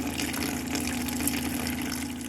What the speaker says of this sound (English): Just keep holding the button and eventually the water will flow.